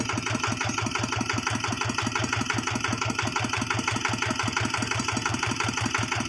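A tractor engine with freshly changed engine oil idles steadily with a rapid, even chugging rhythm, close and continuous throughout, with no voices.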